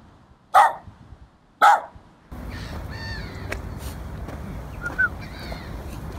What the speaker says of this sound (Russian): Только ты не гавкай на меня, ладно, пес?